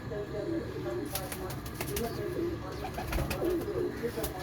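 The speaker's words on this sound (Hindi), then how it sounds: "ये दोस्त की फरमाइश पे कबूतर दिखा रहा हूँ साथ।" Breeder pigeons, males and females, coo softly nearby while wings flap in short bursts, all fairly quiet against a steady background hum.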